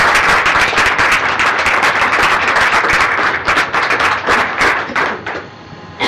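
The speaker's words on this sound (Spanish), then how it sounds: "Y le damos un aplauso." An audience at a talk on yoga, quantum physics, medicine and neuroscience breaks into dense, sustained applause, loud and close, thinning briefly near the end.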